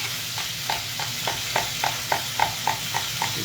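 A knife cutting fajita vegetables on a cutting board, about a dozen crisp, evenly spaced chops in a steady rhythm, close and clear with no talk.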